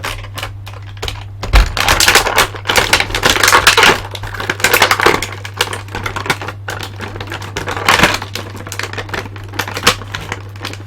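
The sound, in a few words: Meta Cooler action figure being removed from its packaging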